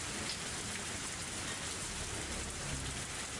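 Steady, soft rain from the Higurashi When They Cry Hou video game, a constant hiss of drops with no voices or other sounds over it.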